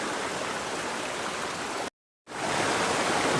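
Steady broadband rush of water pouring down a waterfall, loud and continuous, briefly cut to silence for a moment before resuming just as strong.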